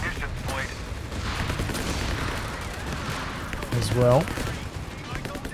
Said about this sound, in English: the grenade launchers are still hitting hard